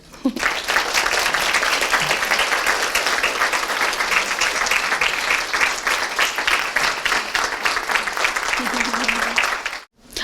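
Audience at a Pride talk breaks into sustained applause, a thick wash of clapping lasting about ten seconds with a few faint voices in the crowd before it cuts off.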